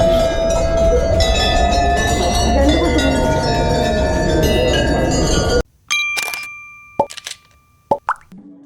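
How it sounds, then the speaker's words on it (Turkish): Dense ringing of many temple bells clanging together in Pokhara, Nepal, then after a sudden cut a few separate clear dings and clinks, each struck by hand, fading out. "Bu çan sesleri o yüzden bu kadar çok."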